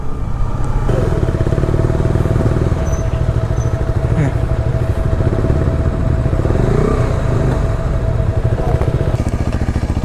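A KTM Adventure 390 motorcycle riding off on a road trip from Coimbatore to Coorg, its steady engine drone close and loud throughout with wind rush and no break.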